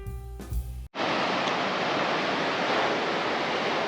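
Steady broadband roar of ocean surf at Wilson Creek Beach on the Northern California coast, loud and continuous after a brief opening of other sound, with no voices.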